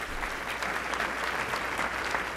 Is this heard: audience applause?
yes